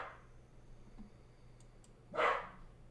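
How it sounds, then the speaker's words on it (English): A single short bark from a dog named Max sounds once near the end, fairly close, after faint clicks and a low steady hum in a quiet room. "Max is barking."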